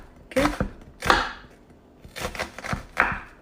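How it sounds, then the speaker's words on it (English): A knife slicing an onion thin on a board, about five crisp chops in an uneven rhythm, close and clear with no talking. "then turn it around and then just chop very thin slices"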